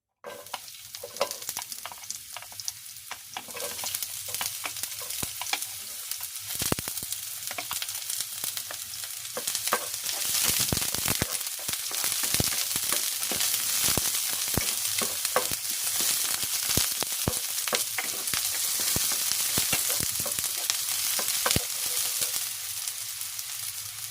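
Chopped onions fry in a little oil in a pan for ginisang pork giniling, giving a loud, steady sizzle that runs without a break for over twenty seconds, with frequent sharp scrapes of stirring and no talking.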